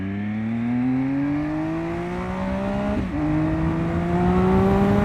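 A 2016 Triumph Speed Triple R motorcycle engine revs up in a steady rising whine, drops briefly for a shift, then climbs again, loud and close with no voices.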